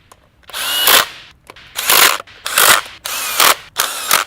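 A power or ratchet tool runs in five quick bursts, snugging the bolts of a Chevy LS engine timing cover fitted with an alignment tool, each burst loud and close with short pauses between.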